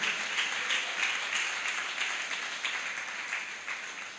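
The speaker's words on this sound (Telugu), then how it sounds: "చప్పట్లు కొట్టి దేవుని నామాన్ని కనపరుద్దాం." A church congregation claps together in a steady rhythmic beat, loud and close, with many hands sounding at once and no voices over it.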